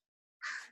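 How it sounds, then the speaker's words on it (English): Crows outdoors give a single short, harsh caw that bursts in suddenly after silence and fades within a fraction of a second. "The crows are out."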